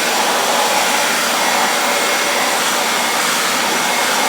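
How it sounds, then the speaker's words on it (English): A hair dryer blows steadily on a lace front wig to set a lace tint, a continuous loud broadband whoosh held throughout with no pauses. "I'm just gonna blow dry this so it doesn't transfer"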